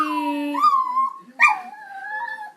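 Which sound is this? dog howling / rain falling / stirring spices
dog howling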